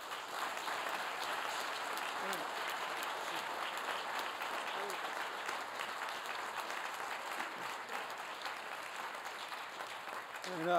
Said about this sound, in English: So you should give them a big hand, and while you're clapping